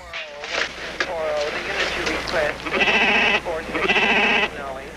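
Sheep bleating loudly and close by, in several drawn-out wavering calls one after another, with a shorter bleat near the start.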